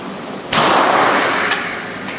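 A Sig Sauer P365 9mm pistol is fired left-handed at about 10 metres on a shooting range: one loud, sharp close report with a long ringing decay, then two fainter distant shots.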